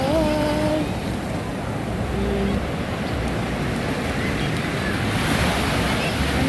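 Strong surf pounds a beach at Caridad in Pangasinan, with a continuous loud roar of crashing waves and heavy wind buffeting the microphone, while faint voices and a few brief vocal sounds come through early on.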